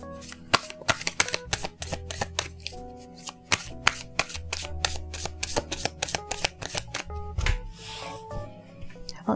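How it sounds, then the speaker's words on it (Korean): Tarot cards shuffled by hand in a steady run of crisp riffling flicks and soft rubbing, close and fairly loud, with no voices over it. "5장을 뽑아보도록 하겠습니다."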